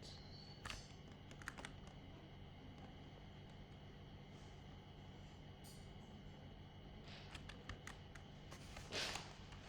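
Keys on a computer keyboard are pressed while playing a Roblox garbage truck game, giving scattered clusters of faint clicks over a low steady hum.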